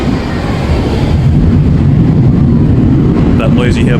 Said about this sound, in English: That noise you hear above me is the train.